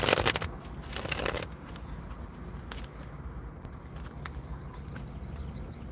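Tarot cards riffle and flick in quick bursts at the start, then softer shuffling and light handling continue in a quiet room.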